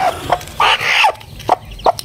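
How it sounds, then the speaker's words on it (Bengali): Chicken chicks peeping and cheeping in short, bright bursts, with a few clucks mixed in, close by and fairly loud, in a village home. "আর এই হইছে মুরগির বাচ্চা।"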